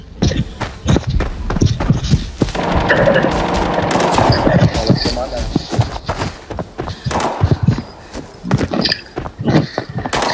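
Shotgun blasts and other gunfire in the night mode of Arena Breakout, Northridge map, mixed with thuds, footsteps and bursts of noise, while a player talks over the action.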